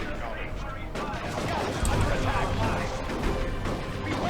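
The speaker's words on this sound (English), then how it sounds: "Oh god, that grenade!" Grenade blast and gunfire in the Dawn of War 2 Retribution strategy game, a dense crackle of rapid shots with a deeper thump near the middle, moderately loud and continuous, with a speaking voice partly mixed in.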